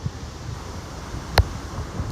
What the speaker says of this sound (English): You probably can tell by the wind on the phone that it's still really windy out here.